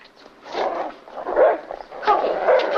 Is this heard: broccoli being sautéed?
no